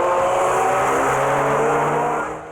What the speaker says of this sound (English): Just the sound of the car.